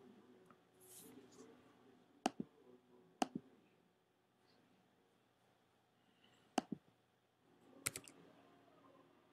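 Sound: typing a website address on a computer keyboard

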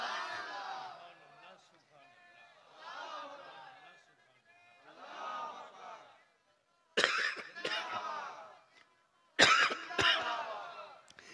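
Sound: cough

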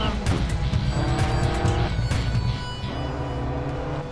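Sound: rally car engine accelerating in Sébastien Loeb Rally Evo video game

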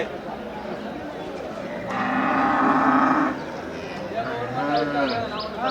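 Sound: cattle mooing at a livestock market

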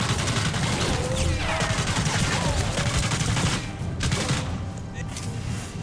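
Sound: grenade explosion in video game Sniper Elite 3

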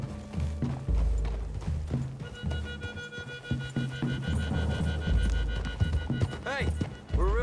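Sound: horses in video game Red Dead Redemption 2

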